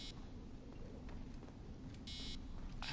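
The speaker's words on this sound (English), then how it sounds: "I know beep beep, you're really annoying" Brief electronic beeps from the Assassin's Creed Origins game sound in quick bursts, faint and low in level over a soft background hum.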